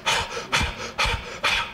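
A human voice imitates the panting breath of a galloping war horse with four loud, rhythmic, breathy huffs close to the microphone.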